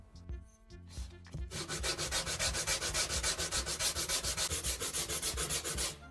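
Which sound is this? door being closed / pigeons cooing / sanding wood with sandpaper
sanding wood with sandpaper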